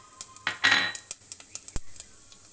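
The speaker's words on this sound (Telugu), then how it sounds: "ఆయిల్ కాగింది. కొద్దిగా ఆవాలు వేస్తున్నాను." Mustard seeds drop into hot oil in a pan, giving a brief soft hiss followed by scattered light pops and ticks, close by and fairly quiet, with no voice.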